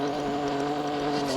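A racing car in the mobile game Car Parking 2 roars at speed with a steady high engine drone, loud and continuous throughout the short burst.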